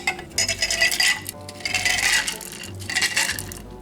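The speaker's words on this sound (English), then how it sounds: "And just stir that around, then we'll add some ice." Stirring about four ounces of water for a drink, with a run of quick metallic clinks and scrapes against the container coming in uneven bursts. It is close and moderately loud, with no talking.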